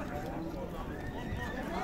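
A slim bay horse at a livestock market in Sokuluk, Chüy, with hoof clip-clops and whinnies in the open air, under steady crowd chatter.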